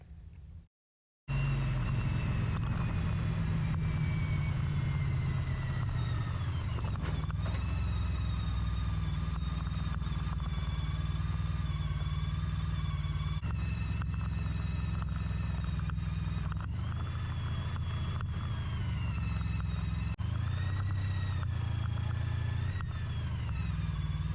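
A motorcycle rides across an old aqueduct bridge, its engine droning steadily and close for the whole stretch, with the pitch rising and falling as the throttle shifts.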